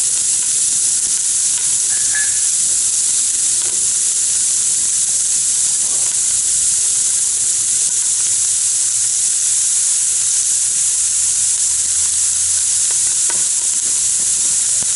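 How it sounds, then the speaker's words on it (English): Chopped onions sizzle steadily in hot oil inside a pressure cooker, a loud, even frying hiss that runs unbroken throughout, with faint stirring clinks now and then. "I'm going to throw in the onions. Now the onions are going to cook for about 3 minutes by themselves."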